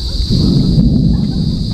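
Thunder rolls low and heavy during a rainstorm, a loud, close rumble that fills the short stretch without pause, with a faint steady hum behind it.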